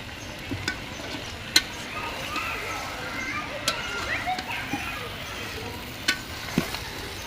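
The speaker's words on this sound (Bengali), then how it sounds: "বেগুন আর আলু এখন ভালো করে কষায় নিবে।" Potato and eggplant pieces fry and are stirred in a pan, with a continuous sizzle broken by sharp scraping clicks of the utensil, while voices carry on faintly underneath.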